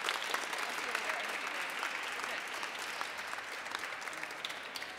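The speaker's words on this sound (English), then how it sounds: "give them a warm round of applause" Sustained applause from a crowd, a dense patter of many hands clapping at a steady level for several seconds, moderately distant.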